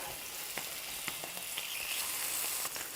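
Halloumi cheese fries in a warm pan over low heat, a steady soft sizzle with scattered pops and crackles, fairly faint and close, no voices.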